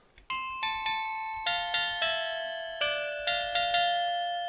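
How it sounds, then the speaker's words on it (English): Melody bells from the Steinberg Hypersonic 2 software instrument play a bright, shimmering tune, struck notes with rich ringing overtones and long sustains, arriving in a steady rhythm with no talking. "Melody bells."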